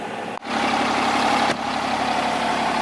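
A pickup truck fitted with an S468 turbo and 100% over injectors idles steadily up close, giving a constant low rumble with a brief dip near the start. No one speaks.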